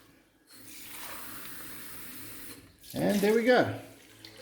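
Two cups of water poured from a cup into a pot of sushi rice, a steady splashing gush lasting a couple of seconds, followed by a brief louder splash and a short spoken remark close by.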